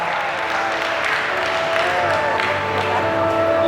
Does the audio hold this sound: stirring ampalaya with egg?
no